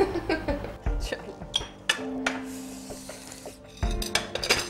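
Dishes and cutlery clink and clatter at a home meal, with several close knocks and rattles of plates and utensils being handled, plus a brief ringing metallic tone.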